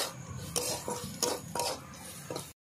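A spoon stirs and scrapes a spice masala, sprinkled with a little sugar, around a metal pan. Several distinct, rhythmic scraping strokes sound close by over a soft background hiss, and then the sound cuts off abruptly.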